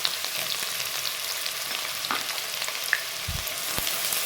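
Chicken pieces fry in a pan for chicken pasta, giving a steady close sizzle with occasional scrapes and knocks of stirring.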